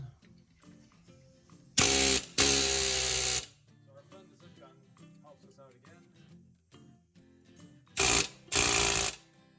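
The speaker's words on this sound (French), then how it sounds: "Donc, on prend encore notre petit ami de zip gun." A zip gun (air hammer) rattles in loud rapid bursts while removing a brake part on a vehicle: two short blasts early on and two more near the end, with quieter workshop clatter and talk between them.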